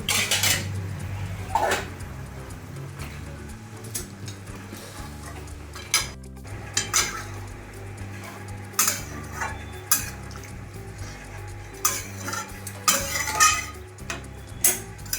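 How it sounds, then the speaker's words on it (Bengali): Mutton stock is poured into a pressure-cooker pot of mutton rogan josh and stirred, with scattered metallic clinks and scrapes of a spoon against the pot over a steady tonal background. "এবার মাটনের স্টকটা দিই।"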